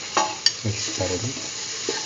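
A curried egg and mung bean stew is stirred in a pot over low sizzling, with a few soft scraping strokes and one sharp utensil click close by.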